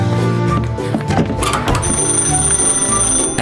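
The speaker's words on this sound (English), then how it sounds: "and then the phone rings" A telephone rings inside a room in the video game Mafia: a shrill, continuous electric bell trill that sounds fairly close and loud over low background music.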